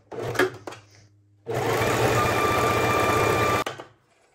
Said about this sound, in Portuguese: Eu vou fazer uma costurinha ali de 1 centímetro.